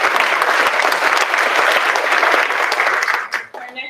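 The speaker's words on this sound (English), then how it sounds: "let's give her a round of applause." An audience at a school district board meeting bursts into dense, loud applause that holds steady for several seconds, then tapers off sharply near the end.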